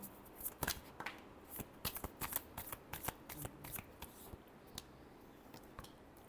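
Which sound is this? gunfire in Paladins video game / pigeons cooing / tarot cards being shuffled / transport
tarot cards being shuffled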